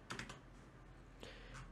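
A few quick keystrokes on a computer keyboard, typing a library name into a search field while setting up an ESP8266 project; short bursts of soft clicks, close and fairly quiet with pauses between.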